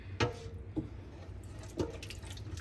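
Water running and splashing into a pot for chicken soup, a steady faint flow with a few louder splashes, no voices.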